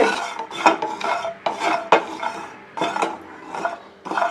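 Coconut pieces, fresh or dried, being dry-roasted in a kadai: a metal spoon scrapes and clinks against the pan in about eight rhythmic strokes, close and fairly loud, with no talking.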